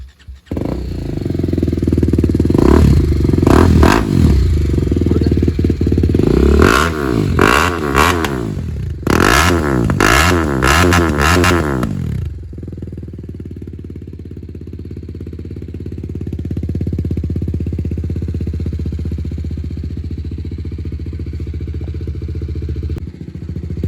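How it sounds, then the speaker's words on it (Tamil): Akrapovic Evolution full-system exhaust on an Apache RR310 motorcycle, loud and close, with several sharp revving bursts that climb and fall before settling into a steady low idle rumble. "எக்ஸாஸ்ட் நோட் கேளுங்க மக்களே."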